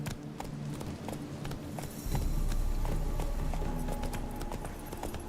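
Roach, the horse in The Witcher 3 video game, clip-clops along with steady hoofbeats that grow louder and heavier midway as she picks up to a gallop, close and continuous with no talk.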